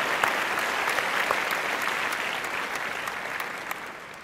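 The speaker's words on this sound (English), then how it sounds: "So I want to give her a round of applause." An audience at a talk on the teen brain gives a round of applause, a dense, steady wash of many hands clapping that holds evenly throughout.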